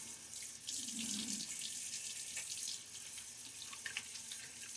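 Water runs from a sink tap and splashes during a wet shave, a continuous bright hiss of flow with brief splashing, close and moderately loud with no voices.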